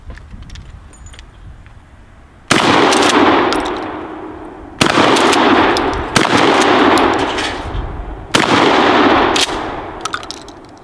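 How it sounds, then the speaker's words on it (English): A Mossberg 500 shotgun fires slugs at a propane tank outdoors: four sharp, loud blasts spaced a couple of seconds apart, each with a ringing, decaying echo, and faint clinking noises before the first shot. "Slugs are a very satisfying thing to shoot"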